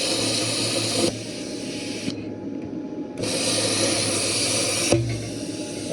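A YesWelder plasma cutter slices through a thick steel wrench with a steady, loud hiss and roar. The sound stops once partway through, then resumes, with a brief crackle where the cut begins and ends.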